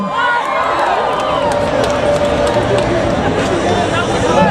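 A loud, dense crowd roars and cheers continuously at a Nias cultural arts performance, with whoops and shouting voices mixed into the din.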